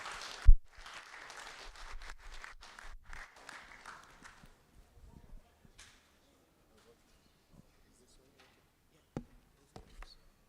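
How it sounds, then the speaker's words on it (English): An audience claps to welcome a speaker at an ICT week training session. The applause is fairly distant and fades away within about four seconds, leaving near silence with a few scattered knocks. "with a huge round of applause, let's welcome him as he comes here"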